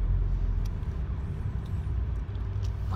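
Low, steady engine rumble and road noise from inside a moving car, a continuous dense hum with no clear speech over it.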